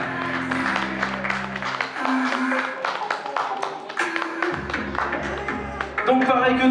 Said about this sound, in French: Les voici, les voilà, on peut les applaudir bien fort.